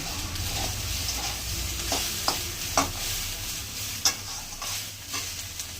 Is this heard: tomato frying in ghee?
yes